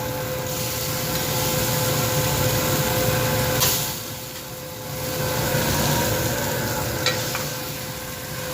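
Bacon sizzling steadily on a grill under a grill press, a continuous frying hiss with a low hum beneath, easing briefly around the midpoint before swelling again, with no one speaking.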